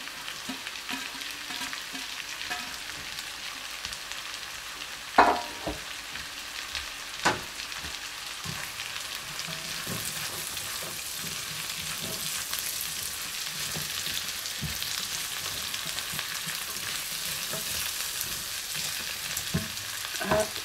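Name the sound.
onion and garlic sautéing in pan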